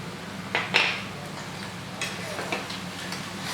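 Ingredients sauté in oil in a pan for a crab curry, giving a faint low sizzle under a couple of sharp clinks of a utensil against the pan near the start, with no talk.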